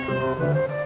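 A cat in the video game Detective Di: The Silk Rose Murders gives one drawn-out meow with a wavering, rising and falling pitch, clear and close, with no talk over it.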